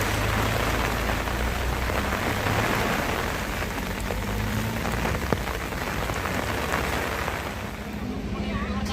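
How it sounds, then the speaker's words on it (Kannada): Heavy rain pours steadily and loudly at Husur Falls near Jog Falls, a dense continuous hiss drumming on surfaces, with faint voices now and then beneath it. "ಮಳೆ ಸ್ವಲ್ಪ ಕಡಿಮೆ ಆಗಲಿ"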